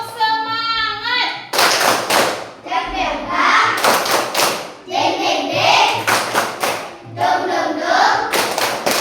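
A classroom of children performs a rhythmic clapping cheer, bursts of sharp group claps in a set pattern alternating with chanted voices, loud and close, repeating over several seconds.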